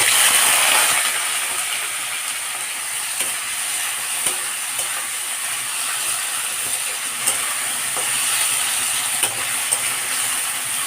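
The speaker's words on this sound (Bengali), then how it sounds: "এবার এই যে পেঁয়াজ কুচি, টমেটো কুচি, লঙ্কা কুচি আছে, সেটা তেলের মধ্যে দিয়ে দেব।" Chopped onion, tomato and green chili sizzle in hot oil in a home kitchen, a steady hiss with scattered clicks and scraping from stirring throughout, with no talking.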